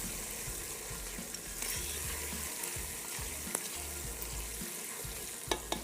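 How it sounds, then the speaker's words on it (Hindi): Beef frying with spices for Irani tikka karahi makes a quiet, steady sizzle with occasional scraping stirs and light clinks, close and continuous, with no talk. "अब अच्छे तरीके से सारे मसाले को हमने भूनना है कि बीफ भी अच्छे से भुन जाए और मसाले भी भुन जाए।"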